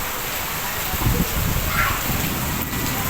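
Steady rain pours down outdoors while children play and get soaked in it, a dense even hiss throughout with a few voices faintly mixed in.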